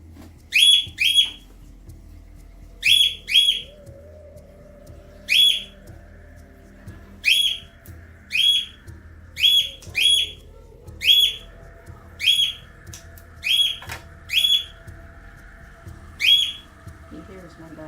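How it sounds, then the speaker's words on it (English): A bird gives repeated shrill, whistling screams in paired bursts at a steady rhythm, loud and close, over a low background hum. "Now we got a screaming bird."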